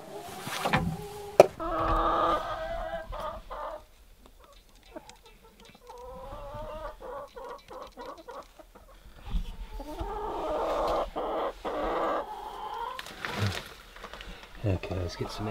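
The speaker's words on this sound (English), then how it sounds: "There's one chicken," Several hens cluck and squawk in a backyard chicken coop beside a yurt, busy and close, with a human voice breaking in now and then.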